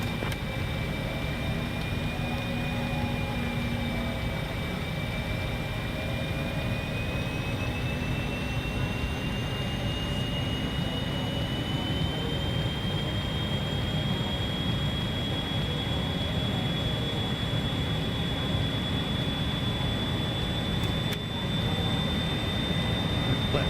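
Regional jet engines roar at full throttle in a flight simulator during an approach to land, a steady, loud droning whine with a slowly rising tone and no voices over it.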